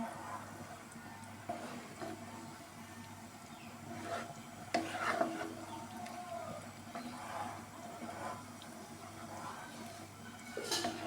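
Ingredients stirred together in a pot, soft scraping and rubbing strokes with occasional light clinks, close and quiet, repeating irregularly over a low background hum.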